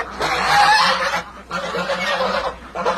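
Chinese geese on a small farm give loud, close, nasal honks in two or three bursts with short pauses between them.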